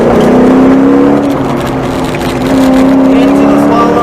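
A 1994-2004 Ford Mustang corners under light throttle with the rear sliding, its engine droning loud and steady from inside the car, pitch dipping then rising again.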